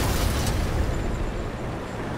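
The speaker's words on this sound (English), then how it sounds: "This enemy Type 4 has resorted to firing high explosive into my armor" Heavy high-explosive shell blasts pound the armor of a Type 4 heavy tank in World of Tanks, a loud, continuous, dense rumbling roar with no distinct separate impacts.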